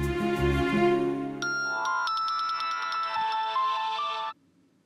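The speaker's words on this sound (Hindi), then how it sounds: "देखो फिर स्कूल से फोन आ गया।" A phone ringtone plays loud and close. It opens with a low melodic tone, then a bright electronic jingle repeats in quick chimes for several seconds before cutting off.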